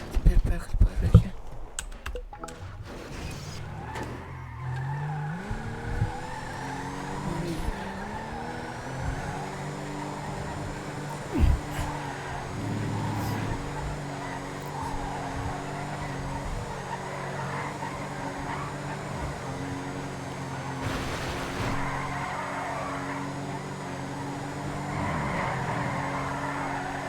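Car engine in the video game Smotra Rage, driving along a river, a steady droning hum with rising and falling pitch sweeps as it accelerates, plus keyboard tapping and occasional voice sounds over the top.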